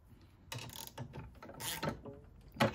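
A bolt being loosened with a wrench on a snowblower during a drive repair: a few short grinding, ratcheting metal clicks in quick bursts, close but fairly quiet, ending on a sharper clank.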